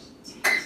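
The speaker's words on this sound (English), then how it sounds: "He's coughing." A man coughs once, a short harsh burst in a quiet room, following a softer throat sound.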